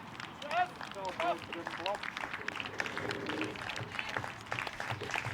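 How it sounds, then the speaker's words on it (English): Applause from players and spectators rolls steadily as Warrington Wolves women's players leave the field after a Challenge Cup quarter-final against Leeds Rhinos, a distant stadium clapping under a commentator's voice. "Warrington player will be applauded off the field by both players and spectators there, all in the spirit of the game"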